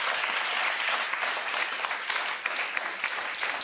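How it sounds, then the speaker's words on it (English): Warm applause from a cultural panel audience for an award-winning author, a dense, loud crowd of clapping hands that runs continuously and evenly throughout, with no pause. "Please give her a warm round of applause."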